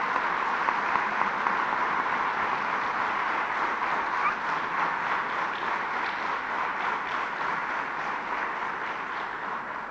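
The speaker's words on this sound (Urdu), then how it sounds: "فائدے کی بات پہ تو بہت اچھی تالی بجی" Audience applause fills a judicial officers' gathering addressed by Chief Justice Syed Mansoor Ali Shah, a steady dense wash of clapping sustained for the full stretch without talk over it.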